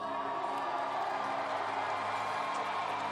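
Steady roar of a large arena crowd at a short track speed skating World Cup race in Seoul, a dense continuous wash of voices and cheering with faint whoops rising above it throughout.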